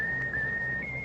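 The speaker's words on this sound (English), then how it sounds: "How about whistling the tune that you like best of all?" A person whistles a favourite tune, one clear sustained note shifting slightly in pitch, close and fairly loud with no talk.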